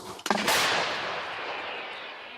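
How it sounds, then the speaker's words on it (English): A Ukrainian long-range towed cannon fires a single loud, sharp blast, its boom rolling away in a long reverberant decay over open ground. "The soldiers are training to fire from a long-range towed cannon."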